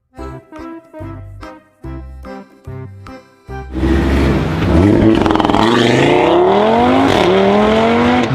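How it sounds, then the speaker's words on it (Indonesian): A Porsche car accelerates hard, its loud engine note climbing steadily in pitch and staying close and continuous after a short musical intro. "Mobil Porsche."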